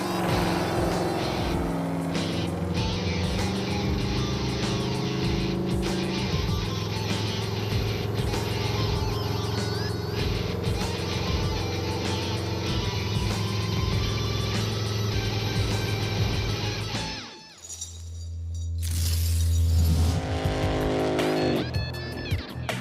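Muscle truck towing a boat on the highway toward Arizona, its engine droning steadily with harmonic tones and road noise, then a brief dip and a louder engine surge near the end.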